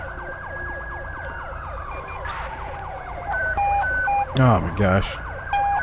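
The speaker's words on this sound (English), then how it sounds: "Why did you make the panic button noise? That's annoying." Police panic-button siren from GTA 5 with the LSPDFR mod, loud wailing sweeps that switch to fast yelps and warbling tones, with a man briefly exclaiming over it.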